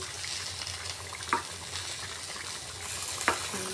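A pot of simmering jackfruit and potato curry bubbles and hisses softly while a spoon stirs it, with two distinct scraping clinks against the pot over a steady low cooking sizzle.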